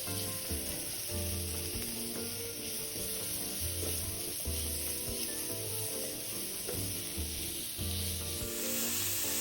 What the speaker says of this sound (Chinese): 炒个约1分钟左右